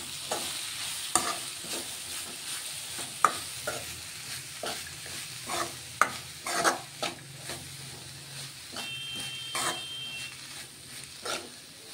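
Grated potato is stirred in a frying pan, producing repeated scraping strokes and knocks against the pan over a faint steady sizzle, loud and close.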